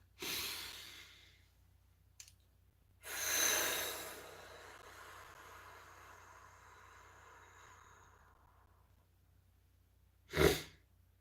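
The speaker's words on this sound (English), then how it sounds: "let's take a nice deep breath" A group takes slow, deep breaths: a soft inhale, a longer drawn-out breath fading away, then a short, sharp exhale, each separated by near silence.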